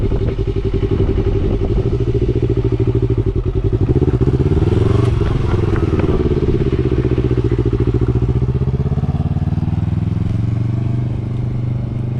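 A Yamaha R3 motorcycle pulls away on too little throttle, its engine a loud, close, steady low rumble with a fast pulsing beat that dips and wavers in pitch midway before settling, with no one talking.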